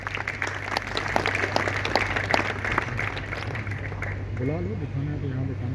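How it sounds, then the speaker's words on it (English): An audience at a real estate project event applauds the team, scattered clapping mixed with a talking voice, giving way to speech near the end. "So that's a big applause to this team."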